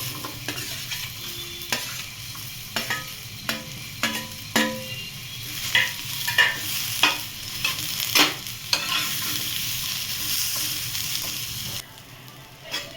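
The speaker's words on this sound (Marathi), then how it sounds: "कांदा भाजून घेते।" Onions frying in a pan while being stirred, a steady sizzle broken by repeated scraping and clacking of a spatula at an irregular pace, close and fairly loud, easing off near the end.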